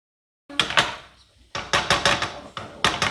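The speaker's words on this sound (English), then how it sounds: "It helps me break up my ground beef very, very well." A utensil breaks up ground beef in a pan while cooking Bulgarian rice with tomatoes, making a sequence of sharp knocks and scrapes against the pan in uneven bursts, close and clear.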